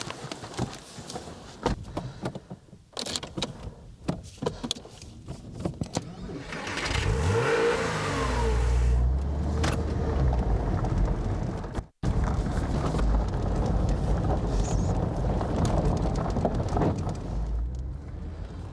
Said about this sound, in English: I'm taking this car out for a drive. So let's get back in the car and give it some beans.